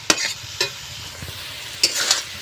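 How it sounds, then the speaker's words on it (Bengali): A spatula scrapes and stirs potatoes, onions and onion sprouts sautéing in a pan. Four sharp scraping strokes cut through a low, steady sizzle, close by and without talk. "এবারে একটু হালকা কষিয়ে নেব"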